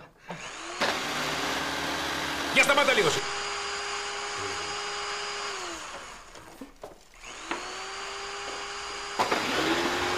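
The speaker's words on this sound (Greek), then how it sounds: "ανοίγετε τρύπες με τα τρυπάνια" Power drill boring holes in a domestic setting, whining steadily in two long bursts with a pause between, its pitch rising at start-up and falling at stop, while people talk nearby.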